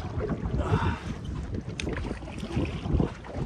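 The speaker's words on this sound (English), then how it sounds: "didn't expect it to be this windy off the go" Wind gusting across the microphone while kayaking on open water, a steady rushing roar with louder swells and low rumbling buffets, no talking.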